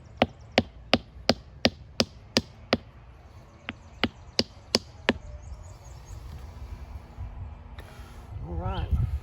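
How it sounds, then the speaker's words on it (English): A horseweed spindle is knocked down into the ground with about a dozen sharp, evenly spaced close-up strikes that slow and soften toward the end, followed by quiet shuffling and a brief voice. "now let's get it driven down into the ground a little bit farther."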